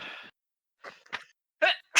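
A sneeze bursts out near and loud, preceded by short sharp intakes of breath, with brief silences between.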